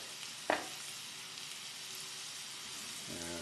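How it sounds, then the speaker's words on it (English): Shrimp with mango cook in a pan, giving a quiet, steady light sizzle with a brief sharp clatter near the start and a low hum toward the end. "you should have a light sizzle"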